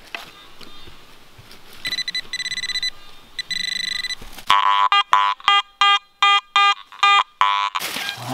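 A metal detector's signal tones at a New Hampshire cellar-hole dig: steady beeping first, then a run of loud, evenly spaced pulsing beeps close to the microphone.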